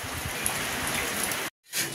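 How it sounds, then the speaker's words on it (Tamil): Steady rain pours down outdoors as a dense, continuous hiss that fills the scene, briefly cutting out near the end before resuming. "மழை பெஞ்சிச்சு. இப்போ கொஞ்சம் லைட்டா விட்டு இருக்குது."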